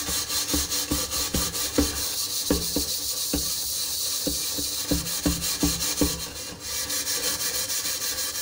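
A steel utensil is scrubbed clean with quick, rhythmic rasping strokes, near and steady, pausing briefly before the rubbing resumes.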